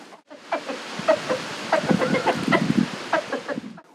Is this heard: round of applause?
no